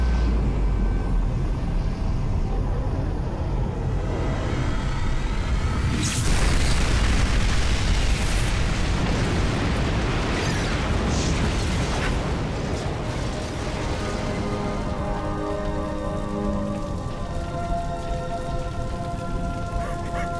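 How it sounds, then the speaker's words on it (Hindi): Gunfire and explosions strike a target in a Hollywood action movie: a dense, continuous roar with crackling bursts throughout and a heavy boom about a third of the way in, loud and alone with no voices. "Firing on target."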